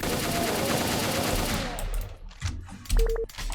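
Rapid automatic gunfire rattles continuously from a video game shooter on an Obsidian map pack, then breaks off into a few scattered shots, clicks and impacts.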